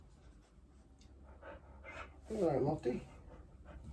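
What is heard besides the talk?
dog panting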